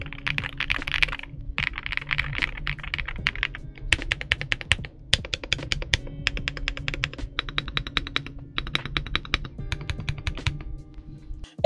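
Rapid typing on a Redragon Ucal Max K673 mechanical keyboard, with steady, dense keystrokes clattering close up for about twelve seconds, occasional brief pauses and heavier thocks, and no voices.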